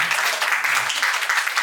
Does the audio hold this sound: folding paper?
no